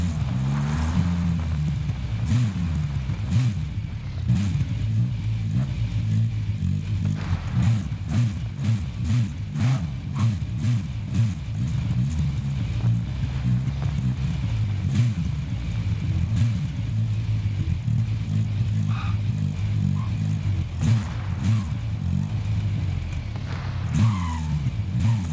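Vehicle engine in Call of Duty Warzone, a continuous rumbling drive with fluctuating revs, punctuated by frequent sharp clicks and taps throughout.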